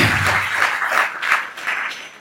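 An audience at a Shiva katha religious gathering breaks into applause, a loud, dense wave of clapping that swells and fades over a couple of seconds.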